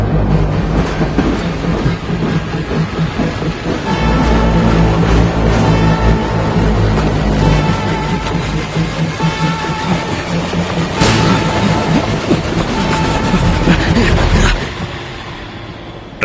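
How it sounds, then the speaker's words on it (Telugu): A train running at speed in a movie scene, a loud continuous rumble with rhythmic clickety-clack of wheels over rail joints and a brief squealing surge before the sound drops away. "ట్రైన్ స్పీడ్ పెరిగింది."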